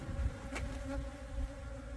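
Agitated native Korean honeybees buzz steadily at a hive during winter preparation, a dense continuous hum close to the microphone with no talking.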